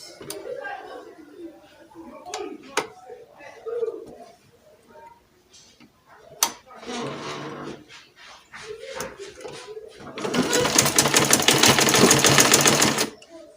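Short bursts of a domestic sewing machine stitching a fitted pencil skirt, ending in a longer steady whirring run, with someone talking between and around the stitching.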